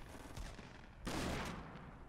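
Gunfire in the Fortnite battle royale game: a short burst of rapid shots, then a louder dense volley about halfway through, sharp and close.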